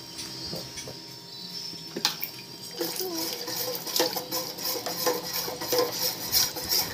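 Corn kernels stirred in a pot of creamy mango soup, metal spoon clinking and scraping against the pot with wet sloshing, soft and steady, while a voice talks over it.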